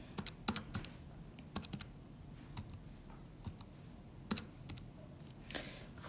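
Keys tapped on a calculator in quick irregular bursts of sharp clicks, close and fairly quiet, with pauses between groups and no talking.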